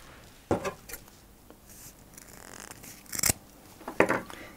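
Scissors cutting through ribbon for a wedding ring cushion, with a few crisp close snips spaced apart against a quiet background.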